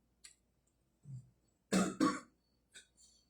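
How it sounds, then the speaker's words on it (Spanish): A few separate coughs and a throat clear, two loud coughs close together in the middle, with short quiet gaps between them. "Disculpen, hermano, por la tos."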